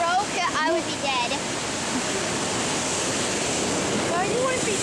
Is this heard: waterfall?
yes